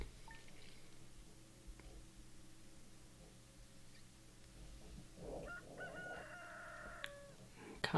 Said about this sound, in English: Cock-a-doodle-doo, we don't have chickens.